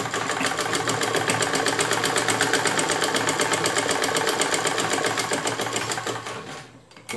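A chain-stitch sewing machine whirs continuously and loudly, with a fast even stitching rhythm, sewing a cushion cover before slowing to a stop near the end.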